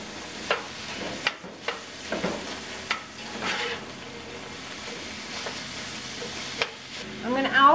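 Meat frying in a pan for a beef pot pie, with a soft sizzle under repeated scrapes and knocks of a utensil as it is stirred, close and moderately loud.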